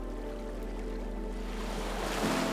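A steady wash of ocean surf rolls against the shore, a continuous broad hiss with a low rumble, even and unbroken with no voices.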